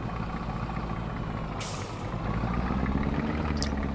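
A truck in Farming Simulator 22 rumbles along with a steady low engine drone, a sharp hiss of air brake release partway through and a brief high chirp near the end, no talk.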